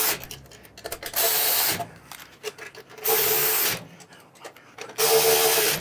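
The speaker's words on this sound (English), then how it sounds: "It's going to take a 6mm Allen and a 13mm wrench on the back side to tighten these down." Fender bolts on a motorcycle bagger front fender being tightened with a 6mm Allen key and a 13mm wrench, steady bursts of close ratcheting and scraping in several strokes separated by short pauses.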